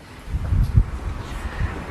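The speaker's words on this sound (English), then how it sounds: "Looks awfully windy there. It's a bit windy, yes" Strong wind blows outdoors in Greece, buffeting the microphone with low, blustery gusts that swell and fade over a couple of seconds.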